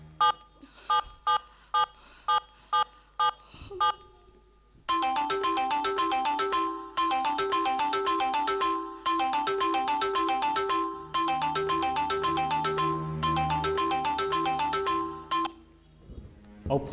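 A phone ringtone sounds during a call in an emotional Odia jatra stage scene, a quick series of beeps followed by repeating bursts of a melodic electronic ring, loud and steady over a low hum.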